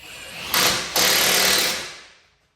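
A power tool, probably an impact driver or air ratchet, tightens the 18mm driveshaft nut on a Ford Transit Connect, giving two quick, loud rattling bursts up close that then fade out.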